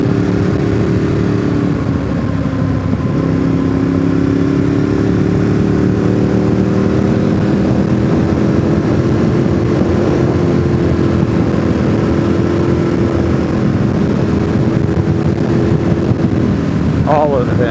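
Mustang Owners Club cars driving by on the road to Deals Gap: a loud, sustained engine drone with gliding pitch as the cars pass one after another, close and steady throughout.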